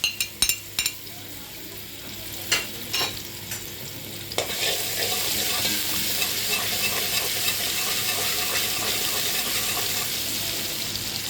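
Minced garlic hits hot oil in a pot after a few clinks of a spoon, then fries with a loud, steady sizzle while being stirred, close up with no talking.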